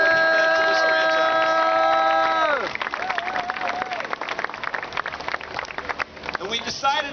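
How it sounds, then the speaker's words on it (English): Crowd applause and cheering swell at a Miami Dolphins Walk of Fame stadium ceremony, a steady roar of many hands following a few seconds of sustained musical tones. "So how about a round of applause for Joe Robbie and what he meant to this franchise?"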